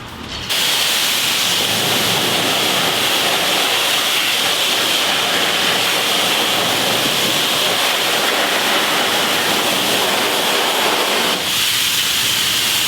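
Steady hissing spray of a pressure washer blasting water onto a Honda CR125 motorcycle under restoration, continuous and close, running alone for most of the stretch before cutting off near the end.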